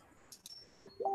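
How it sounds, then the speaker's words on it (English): A phone goes off in a video game, a short electronic tone sequence that starts faint and rises into a brighter, louder chirp near the end, with no talking over it. "phone goes off"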